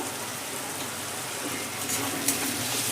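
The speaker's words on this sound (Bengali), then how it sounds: "নেড়ে নেবো ভালো করে।" Egg bhurji with tomato, salt, turmeric and Kashmiri chilli powder being stirred in a frying pan: a steady, loud sizzle with faint scraping throughout and one small clink near the end.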